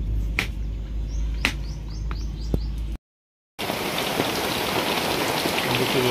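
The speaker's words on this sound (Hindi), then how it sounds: "दोबारा से बारिश होने लगी, देख सकते हैं आप यहाँ पर बारिश हो रही है और बहुत ज़्यादा" Rain patters steadily with scattered drips and distant bird chirps, then after a brief break a dense, heavy downpour hisses loudly and continuously.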